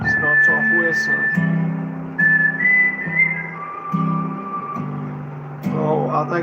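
A melodic whistled tune opens a song played back during a live stream, carried over steady low backing instrumentation and continuing through most of the stretch.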